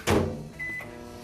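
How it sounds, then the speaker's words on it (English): Microwave oven melting butter, heard as a door thump followed by a short electronic beep and a low running hum, close and moderately loud, with no voices. "Well, I'm going to melt it in the microwave."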